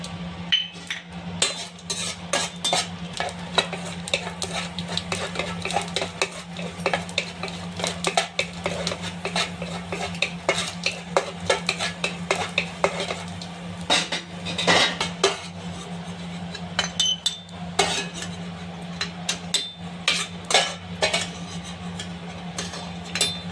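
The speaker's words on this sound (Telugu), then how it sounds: "ఈ సారపప్పును కూడా వేయిస్తున్నాను ఫ్రెండ్స్." Charoli nuts roasting in a pan for rava laddu, with a spoon scraping and clinking against the metal in quick irregular strokes over a steady low hum, close and fairly loud throughout.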